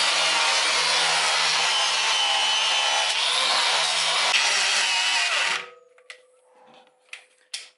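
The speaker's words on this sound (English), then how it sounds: "So yeah, just cleaning up that edge where we're going to need to weld." A metal edge on a Nissan Patrol differential being cleaned up before welding on a Superior Engineering diff brace kit: a loud, steady abrasive rasp runs for about five seconds, then cuts off, leaving a few faint knocks.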